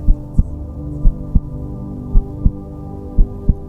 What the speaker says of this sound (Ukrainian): Відчуй биття серця.